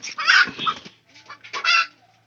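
A hen settling onto a straw nest to lay eggs gives loud, close clucking calls in two short bursts separated by a brief pause.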